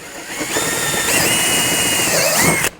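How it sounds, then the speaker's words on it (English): A power drill runs steadily up close, its whine rising in pitch as it bores all the way through for Yamaha Wolverine RMAX overfenders, then stops suddenly. "Those you'll want to drill the whole way through."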